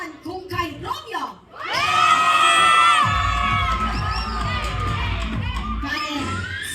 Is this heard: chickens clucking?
no